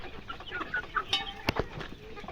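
Free-range village chickens (ayam kampung) in a semi-open coop give faint scattered clucks and short calls amid soft background bumps and movement.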